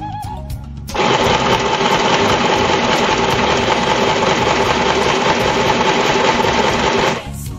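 A sewing machine runs steadily through a backstitch to lock a seam, a loud continuous mechanical whir that starts abruptly after a second and cuts off near the end.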